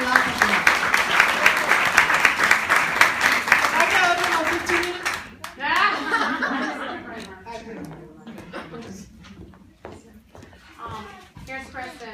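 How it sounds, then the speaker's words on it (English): At a network marketing car presentation, an audience applauds and cheers for about five seconds as a guest is welcomed, then the clapping gives way to chuckles and several people talking. "So please give a round of applause and welcome my good friend"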